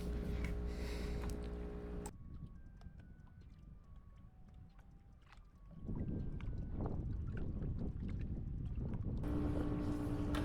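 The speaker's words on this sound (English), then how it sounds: "I'm hearing boats come up on me or fly by me" Boats pass on West Point Lake, Georgia, with a motor drone rising and fading, water splashing and bursts of wind noise on the microphone.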